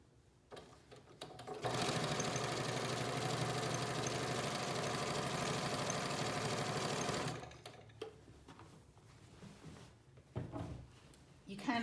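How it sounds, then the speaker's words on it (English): A sewing machine runs steadily for about six seconds, stitching binding onto a quilt, then stops, followed by faint handling noises. "I'm just going to sew, keeping everything lined up."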